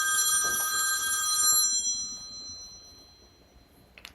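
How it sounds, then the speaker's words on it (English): A telephone rings with a bright electronic bell tone, steady for about a second and a half, then fading away with a short faint ring near the end. "I think I'm getting a phone call."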